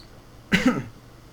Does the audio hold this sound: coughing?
yes